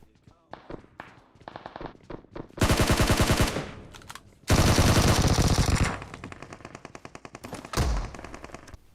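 UZI gunfire in the video game BGMI: rapid automatic bursts crack out in several loud sequences, with scattered single shots and quieter distant fire between them.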